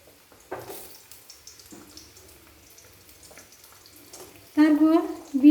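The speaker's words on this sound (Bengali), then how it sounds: "প্রথমে গাজরের টুকরোগুলো তেলে দিয়ে দিলাম।" Carrot pieces frying in hot oil in a wok, a soft sizzle running low in the background with a voice talking near the end.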